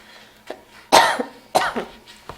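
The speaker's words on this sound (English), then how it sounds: "I wish I could mute my cough." Two sharp, loud coughs about half a second apart, with a smaller throaty burst before and after, close to the microphone and no talking.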